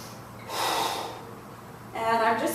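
A forceful breath pushed out through the nose and mouth during a Pilates chair exercise, two breathy bursts a short while apart, close and fairly quiet.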